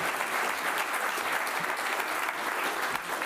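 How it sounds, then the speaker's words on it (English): A large audience at a European leadership awards ceremony applauds steadily and continuously, a dense wash of clapping from many hands with no speech over it. "So please do join me in a large round of applause to the Chiron team, but also Mr. Fjellge."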